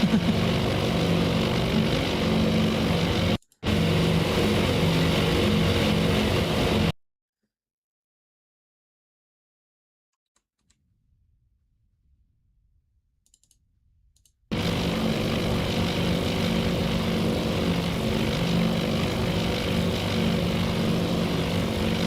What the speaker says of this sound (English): Are you gonna drop or no? P-17 dive bomber.